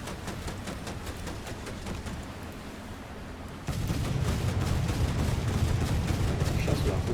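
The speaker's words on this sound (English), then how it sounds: "Some shots with our 40mm." Naval 40mm gun fire in War Thunder during a Japanese Navy battle, dense repeated thumping shots over constant battle noise, growing louder and heavier in the second half.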